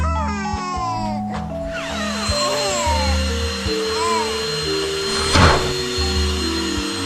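A custodial-grade vacuum cleaner whirs steadily in a comedy ad, a sustained motor drone with shifting tonal whines and a brief louder burst near the end, heard alone without talk.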